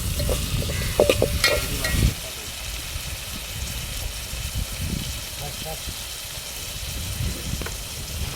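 Tomatoes and chillies sizzle and crackle as they roast in a hot pan, with some stirring clatter early on, then a steady frying hiss continues.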